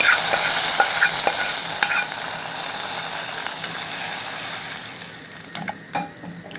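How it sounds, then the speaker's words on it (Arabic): Garlic sizzling in hot oil for an Upper Egyptian okra dish, a steady bright frying hiss with a few small pops and stirring clatters, fading slightly toward the end. "وهنحمر لها الثوم ونحطها عليها وخلاص"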